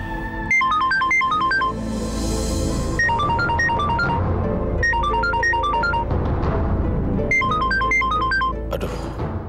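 A mobile phone rings with a repeating electronic melody in several bursts separated by short pauses, loud and close, with faint background noise between rings.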